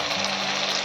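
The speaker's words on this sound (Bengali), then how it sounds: "টমেটোটা ভালো করে আমি ভেজে নেব" Tomato frying in hot oil in a pan makes a steady, close, loud sizzle that carries on without a break through the short moment, with no voices.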